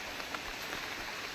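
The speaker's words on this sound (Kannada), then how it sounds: "ತುಂಬ ಜೋರಿದೆ ಮಳೆ" Heavy rain pours steadily on an outdoor walking path, a dense, even hiss of drops close by with no voices.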